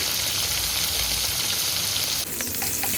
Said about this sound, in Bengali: মাছগুলোকে একটু লাল লাল করে ভেজে নিচ্ছি